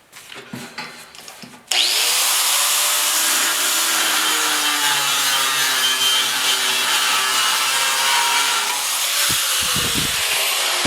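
A power saw cutting off a piece of wood to make a sanding block, a brief rustle then a sudden loud steady whining cut that runs continuously close by, ending with a few knocks as the piece comes free.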